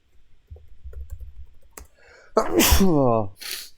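After a stretch of soft clicking, a person lets out a loud, sudden sneeze with a drawn-in breath, followed by a short exhale.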